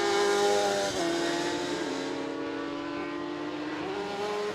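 An RX150 rallycross car blasts downhill after a right-hander at Lydden Hill during a British Rallycross Championship round, its engine note holding a loud, steady high rev with brief dips between gear changes, heard alone without talk.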